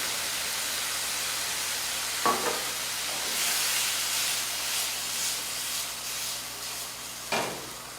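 Vegetables sautéing in a pan with balsamic vinegar give off a steady soft sizzle and hiss throughout, with two brief louder stirring scrapes along the way and no talk.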